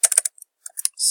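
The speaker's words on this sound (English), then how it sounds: "let's go ahead and type in Empire" A quick burst of keystrokes on a computer keyboard while searching in Google Maps: crisp close clicks in a rapid run, a pause, then a few more taps.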